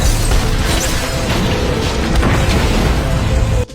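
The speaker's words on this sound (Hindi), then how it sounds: "बढ़ते जलदाब ने जहाज के अंदरूनी उपकरणों को तोड़ दिया और सिलसिलेवार विस्फोट होने लगे।" Rapid, continuous string of booming explosions inside a sinking ship, cinematic sound effect; dense, loud rumbling bursts that roll on for several seconds and cut off abruptly at the end.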